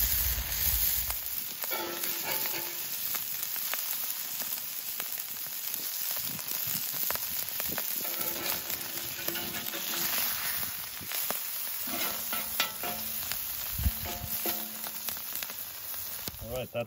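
Smash burgers sizzling on a Drip 'N Griddle Pan with no added oil, a loud, steady crackling fry that carries on without a break and is close to the mic, with occasional sharper pops.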